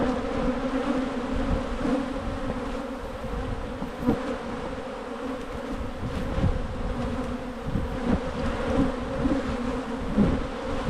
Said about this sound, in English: now I'm going to smoke these bees down